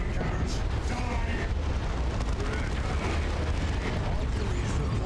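Bombardment cannon artillery in Dawn of War 2 Retribution: a continuous rumble of heavy explosions and booming impacts, loud and dense, with clattering battle noise layered on top.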